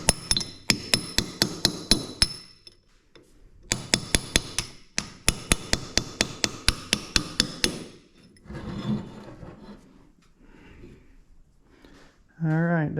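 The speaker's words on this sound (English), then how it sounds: "For now, let's just knock that thing out. I'm using is just a little punch." A small punch is hammered to drive out the pin of a Reed No. 103 bench vise, giving sharp metallic strikes in two steady bursts of rapid, evenly spaced blows. A pause follows, then quieter handling noise at the end.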